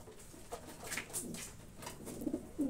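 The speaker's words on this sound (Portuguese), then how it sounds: "Tá aí a pombada. Vamos deixar eles comendo à vontade aí." Pigeons in a loft coo softly and repeatedly while eating their feed, with light rustling and pecking around them and no talking.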